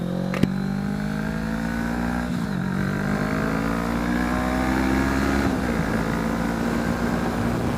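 A V-twin motorcycle engine drones loud and close as it pulls away, revs rising and falling through the gears, with a steady rumbling tone and no voices.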